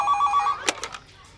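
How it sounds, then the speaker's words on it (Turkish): An old telephone rings with a brief electronic trill, which then stops and is followed by a few soft knocks and clicks in a quiet room. "Telefon."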